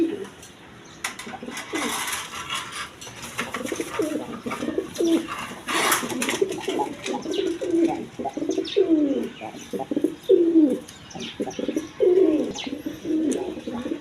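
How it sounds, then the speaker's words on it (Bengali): Caged farm pigeons, a pair sitting on eggs among other birds, give repeated throaty coos in a steady rhythm, close and clear, with a few sharper chirps and clatters in between. "এখানে এক পেয়ার বাঞ্জা কবুতর আছে"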